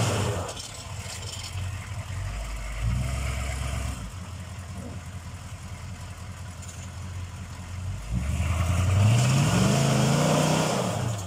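A Chevrolet K5 Blazer with a 6.2 diesel works off road, its engine rumbling at a fairly distant, moderate level, easing off midway and then revving up again with a rising pitch near the end.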